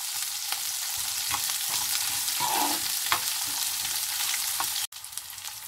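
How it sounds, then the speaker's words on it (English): Tempering ingredients for sambar sizzle and fry steadily in a pan over a medium flame, with occasional stirring scrapes and a brief clatter near the end. "Just fry these ingredients for about 2 minutes"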